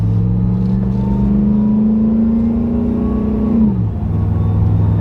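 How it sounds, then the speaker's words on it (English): A Ford Raptor truck engine with a newly installed Whipple supercharger starts for the first time, running loud and close with a deep droning hum and supercharger whine, the pitch holding steady then dropping back toward idle. "First time startup, Whipple supercharger."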